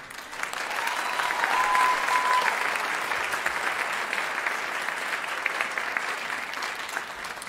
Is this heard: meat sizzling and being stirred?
no